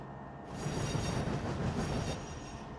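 Simulated Kakatiya Express of Indian Railways running in the Trainz Android game, a steady loud rumble of wheels and carriage noise that swells after a quieter start and holds throughout, with no voices.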